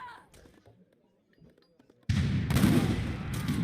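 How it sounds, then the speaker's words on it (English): Musket volley fire in the real-time strategy game Age of Empires III starts abruptly after a quiet stretch of faint battle noise, a dense, loud burst of many overlapping shots that keeps crackling and rumbling to the end. "did you see that volley?"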